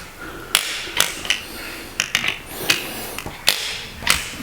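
A wrench tightens cylinder head bolts on a Massey Ferguson 23c tractor, with a run of sharp metallic clicks and clanks at an uneven pace, close up and clear, and no talk.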